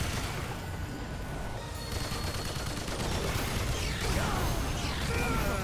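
Gunfire in the video game Remnant 2 keeps up as a dense, steady wash of rapid shots and mechanical clatter amid chaotic combat noise, loud and unbroken throughout.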